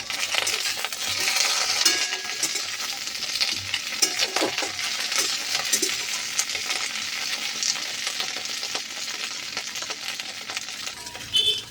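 Okra fries in oil while being stirred, a continuous close sizzle dotted with light clinks and scrapes of a utensil against the pan, going on steadily without any talking.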